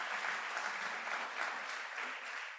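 Audience applause for a second-place prize at a plenary session of an agricultural research conference, a steady dense clapping from a large crowd lasting the whole moment with no speech over it.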